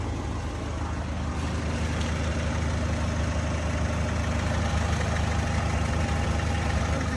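A 2012 VW Touran 2.0 diesel engine runs steadily up close with a constant low rumble, holding a continuous loud drone throughout with no clear rise in pitch.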